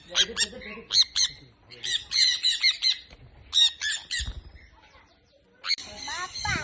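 Loud, close squawking bursts from birds at Komachi park in Wayanad, harsh repeated calls in clusters with brief pauses, and a voice speaking underneath at times.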